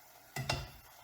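Tomato pulp is stirred into an Italian pomodoro sauce in a pan. It comes as a brief, close scraping swish with two quick strokes against a faint background, with no voices.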